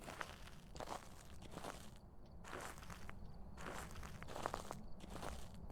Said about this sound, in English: I really do dislike the munching sound.